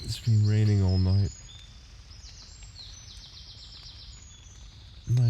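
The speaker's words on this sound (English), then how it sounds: "Nice hearing the birds in the morning." Morning birdsong in rainy woods at a wild camp, faint high chirps and trills running steadily in the background, while someone talks over the start and again at the very end.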